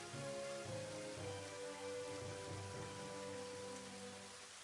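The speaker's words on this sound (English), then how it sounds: "It's a bad rainy day, and we're hoping to get to the town as soon as possible." Rain falls steadily in the Elder Scrolls Online video game, a continuous even patter across a stormy open landscape, with a faint sustained tonal hum beneath and no talking.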